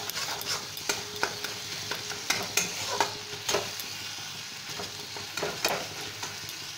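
Spices and tomato frying in a pan for a fish curry, a continuous sizzle with frequent sharp spatula scrapes and taps at an uneven rhythm, close up, with no speech.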